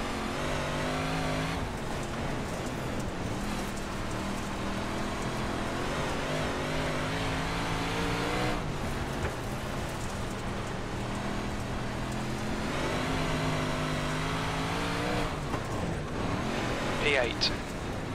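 358 modified dirt race cars racing, engines droning and revving loudly and continuously as cars circle close by, with a spotter's voice calling out over the engine noise.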